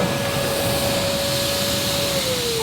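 A Numatic Wendy vacuum cleaner runs on its high setting, a steady loud motor whine with a continuous airy roar, its pitch dipping slightly near the end, close and uninterrupted.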